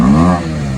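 Motorcycle exhaust revving close by, a loud throaty rumble that swells briefly then settles to a steady idle, heard alone with no talk.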